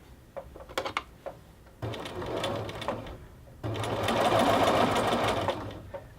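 Sewing machine stitching the sleeve of a knit jacket toward the wrist, running in short close bursts and then longer steady loud runs of rapid mechanical whirring.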